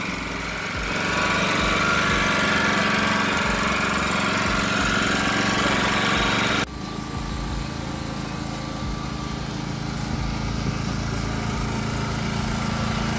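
A Champion 4000-watt generator engine runs steadily and loudly up close, a constant mechanical drone whose tone shifts abruptly partway through and then holds at a slightly different pitch, with no talking.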